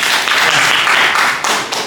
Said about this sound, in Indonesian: Tepuk tangan buat teman-teman ini.